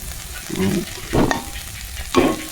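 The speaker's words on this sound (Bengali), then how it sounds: "দেখো আলু ভাজা কান হয়ে গেছে" Sliced potatoes fry in a pan in a village home kitchen, with loud sizzling bursts as they are stirred and turned, three distinct surges over a quieter background hiss.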